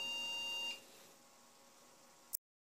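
A desktop computer that powers on without showing a display gives a brief electronic beep at the start, followed by steady low fan hum, a short click, and then abrupt silence.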